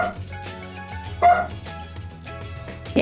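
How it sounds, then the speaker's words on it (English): A pair of dogs bark indoors, two short, loud barks spaced well apart over a faint, steady tonal background. "They're both barking, so I think Mailman's here."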